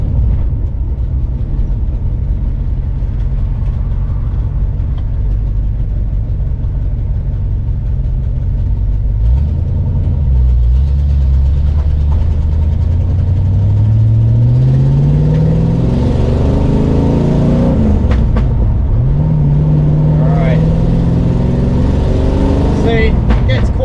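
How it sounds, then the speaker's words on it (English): A 1967 Ford Mustang Fastback engine runs loud and close through its exhausts, rumbling steadily and rising and falling as it revs, with occasional pops. "Noisy, and it does do the odd pop as well with these exhausts"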